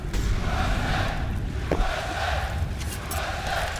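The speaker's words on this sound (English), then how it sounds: "The crowd's back as well." Crowd at the ELeague Boston Major 2018 Counter-Strike semi-final between Cloud9 and SK on Cobblestone roars in a steady, loud wash of cheering. The noise holds throughout the clip with a brief louder swell partway through.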